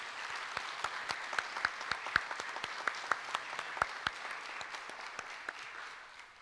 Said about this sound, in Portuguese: Mais uma salva de palmas para o Ricardo.